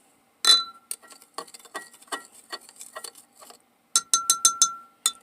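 A spoon stirs a yeast and sugar mixture in a glass, giving quick, bright clinks and taps in an irregular rhythm, close and clear, with a brief pause before a final flurry of rapid clinks.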